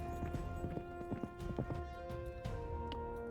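Horse hooves clip-clop in an uneven walking rhythm in the Sherlock Holmes game Crimes and Punishments, fairly quiet and close, with no talking over them.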